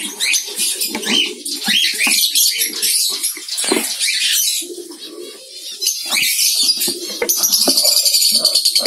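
Hand-fed cockatiel chicks kept in a box give rapid, raspy begging calls in close, busy bursts with soft rustling and fluttering, loud and near with brief pauses between.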